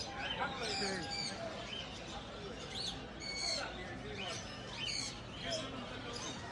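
Many caged birds call and tweet at a bird market in Buraydah, Al-Qassim, Saudi Arabia, a busy overlapping chorus of chirps and coos over steady crowd murmur, with voices talking in the background.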